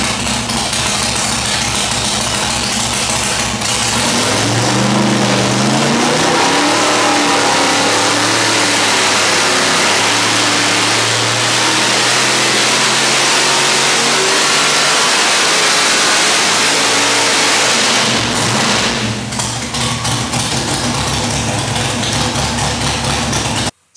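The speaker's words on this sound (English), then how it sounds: "I think we're gonna make one more RPM pull on this engine" A Smeding 1,000hp 632 cubic inch Big Block Chevy engine makes a full RPM pull on a dyno, climbing from a rough idle into a long, loud, rising rev that holds high before it cuts off and drops back.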